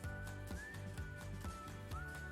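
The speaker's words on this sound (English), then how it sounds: "Oh, whistling." A few faint, short whistled notes slide upward in pitch over a quiet, rhythmic musical background.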